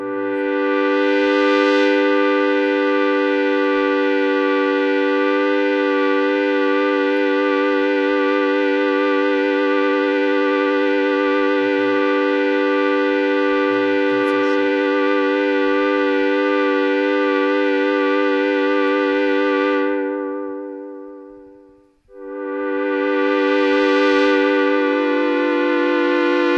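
A synthesizer pad patch with low frequency oscillator modulation holds a dense, harmonically rich sustained chord with a slow wavering pulse, running loud and steady for about twenty seconds, fading out, then swelling back in.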